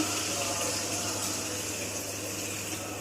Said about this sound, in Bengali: তো ঝোলের পানিটা দিয়ে দেই